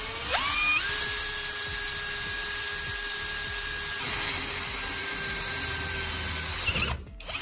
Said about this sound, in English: Drill slowly and let the bit do the cutting. Stainless steel is tough, so steady pressure works better than forcing it.